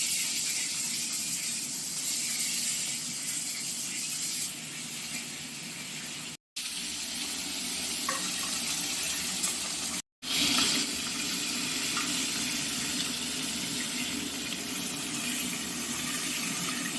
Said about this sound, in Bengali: প্রথমে ইলিশ মাছের মাথাগুলোকে ভেজে নেওয়া হবে।